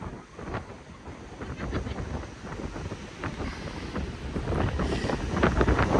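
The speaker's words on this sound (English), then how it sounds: "That's some angry ocean right there." Rough ocean surf pounds the Oregon coast in a continuous loud roar with wind buffeting the microphone, swelling toward the end.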